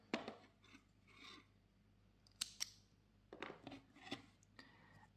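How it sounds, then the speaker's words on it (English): Scissors snip through acrylic yarn after the last crochet stitch of a small owl keychain, a few short, crisp cutting clicks close up in a quiet room, two sharp snaps standing out. "cut the yarn"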